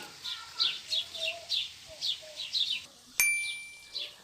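Small birds chirp in a steady series of short, bright calls, faint and outdoors in a garden, then a single sharp metallic ding rings out.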